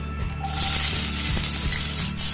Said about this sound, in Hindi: अब प्याज को हल्का ब्राउन होने तक फ्राई करेंगे।